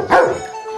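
A single bark from a bird dog standing guard outside a home, short and close, with no talk over it.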